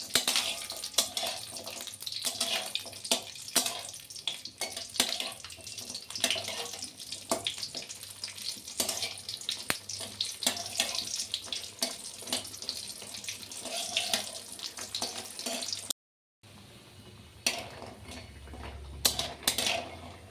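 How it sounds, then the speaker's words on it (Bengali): Lentil dumplings (bori) sizzling in hot oil in a pan while being stirred for a spinach ghonto, a steady crackling hiss with scattered sharp pops, briefly cut off near the end before resuming. "দিয়ে ভালো করে নাড়াচাড়া করে বড়িগুলো আমি ভেজে নিই"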